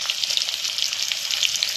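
Onion sputters and sizzles in a pan of hot oil with garlic, ginger and chili for dal makhani, a continuous bright frying hiss heard close with no talk.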